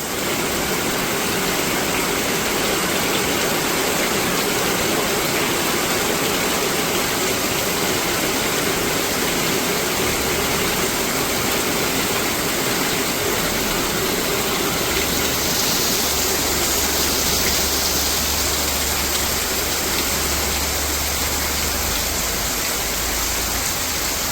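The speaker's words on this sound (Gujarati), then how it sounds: "કેવો વરસાદ પડે છે જુઓ" Heavy afternoon rain pours down in a rural Gujarat village near two rivers, a dense, unbroken hiss filling the air, loud and steady, with a low rumble joining partway through.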